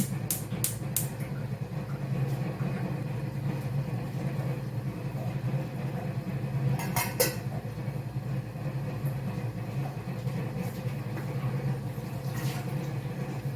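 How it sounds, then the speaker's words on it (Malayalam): A gas stove burner in a home kitchen in Abu Dhabi gives off a faint, steady low roar throughout, broken by a few brief sharp clicks. "ഈ അടുപ്പിൽ നിന്ന് ഇങ്ങനത്തെ ശബ്ദം വരുമോ? അതോ ഇതിനെന്തെങ്കിലും ഈ ഒരു ബേണറിന് എന്തെങ്കിലും ഇഷ്യൂ ഉള്ളതുകൊണ്ടാവോ?"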